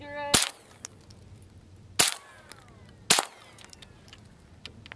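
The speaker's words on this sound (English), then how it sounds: "Put 9 shots in." Three sharp, loud rimfire rifle shots from a Rossi RS22 .22 semi-auto, spaced unevenly over a few seconds, striking and bursting a plastic water bottle outdoors, each crack followed by a brief ringing decay.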